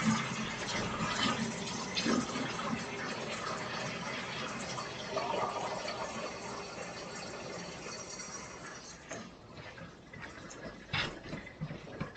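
Water runs from a tap and fills a container, a steady gushing stream up close that softens toward the end.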